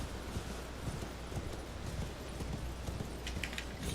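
A horse gallops in Elden Ring, hoofbeats pounding in a quick, steady rhythm close by over a constant rumbling bed of game sound.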